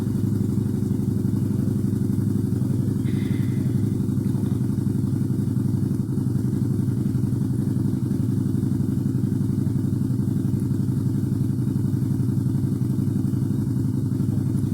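A steady, loud low engine rumble that drones on throughout without a break, like motorcycles running nearby.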